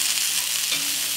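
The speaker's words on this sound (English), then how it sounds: "I'm going to put some more fat pork back into my frying pan and get the rest of that cod frying" Cod frying in rendered fat pork in a frying pan on an outdoor grill, a loud continuous hiss and crackle of sizzling oil filling the whole moment, with no voices.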